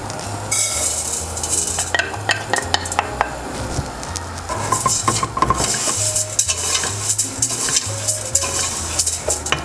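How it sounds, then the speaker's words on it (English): Rice toasting in hot extra virgin olive oil in a pan for risotto, a soft sizzle under repeated scraping stir strokes and clinks of a utensil against the pot, busy and close with no talk. "When the oil is hot, we put the rice and we start to toast it."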